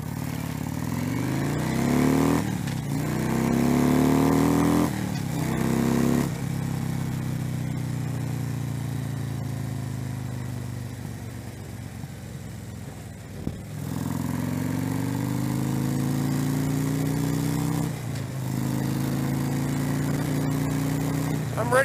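A Harley-Davidson motorcycle rides through traffic, its engine loud and close, rising in pitch through several throttle pulls and easing between them, with wind rush underneath.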